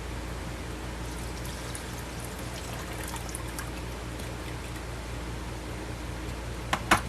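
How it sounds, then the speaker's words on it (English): Pineapple juice poured into a bowl of cake mix, a faint steady trickle over a constant low hum, ending with a couple of brief clinks. "Well, I add my pineapple juice."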